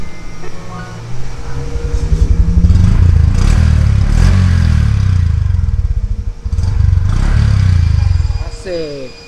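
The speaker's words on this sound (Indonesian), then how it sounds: "Enggak usah deh, kita gas dulu." A Honda Super Cup C125 motorcycle engine revs up and drops back, a loud close rumbling putter that swells and falls twice, with a voice speaking briefly over it.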